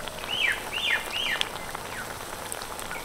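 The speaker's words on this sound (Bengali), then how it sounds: "তেলটা একটু বেশি দিয়েছিলাম সেই জন্য কিন্তু 4টে রোল একসাথে ভেজে নিচ্ছি" Four pumpkin leaf rolls fry together in a generous amount of hot oil, a soft, steady crackling sizzle with a few short squeaky chirps early on.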